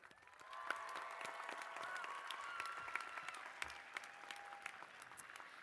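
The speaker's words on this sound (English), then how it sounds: "Let's give our families a round of applause." Sustained applause from a commencement audience at Cal Poly's spring graduation, steady dense clapping filling the hall with a few sharper individual claps standing out throughout.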